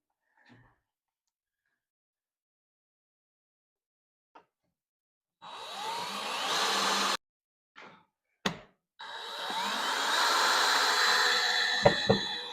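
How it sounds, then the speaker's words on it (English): A power drill whirs in two sustained bursts with a short click and knock between them, close by and fairly loud. "we'll just drill it in now."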